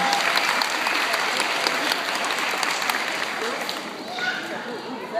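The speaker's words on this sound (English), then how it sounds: "And give her a big round of applause." Loud crowd applause at a seal show rolls on continuously, strongest at the start and easing slightly toward the end, with faint voices underneath.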